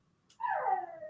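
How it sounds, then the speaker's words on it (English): A standard schnauzer lets out a single high, drawn-out whimper that slides downward in pitch, close by and alone against quiet room tone. "That's my dog."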